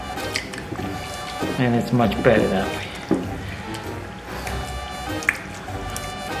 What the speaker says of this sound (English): You break them with your hands